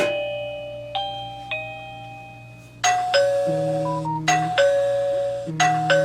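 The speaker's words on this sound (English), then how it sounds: "We can ring the doorbell." Electronic chimes from a PLACUY 2K wireless video doorbell ring out several times, bright multi-tone dings that overlap and decay, with no talking.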